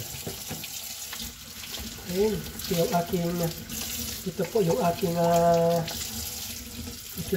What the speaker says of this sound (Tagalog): Maghuhugas pa ako ng pinggan.